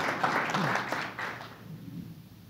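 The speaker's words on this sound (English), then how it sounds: "That deserves a round of applause" A lecture audience gives a short burst of applause that swells quickly and then fades into quiet room noise within about two seconds.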